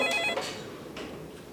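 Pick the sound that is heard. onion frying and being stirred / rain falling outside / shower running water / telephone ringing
telephone ringing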